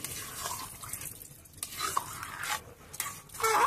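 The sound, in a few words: water added to egg tadka frying in pan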